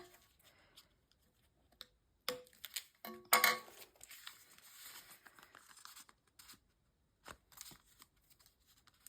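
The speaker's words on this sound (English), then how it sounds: "So if anything's hanging out, just give that a snip." Scissors trim loose thread ends on a paper craft mini kit, giving a few quiet snips and then a cluster of crisp cutting and rustling handling noises up close, followed by scattered lighter clicks.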